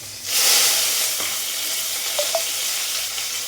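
Green chillies and curry leaves hit hot oil in a pan for an egg and pepper curry, giving a loud burst of sizzling that settles into steady frying hiss, with a couple of light utensil clinks near the end.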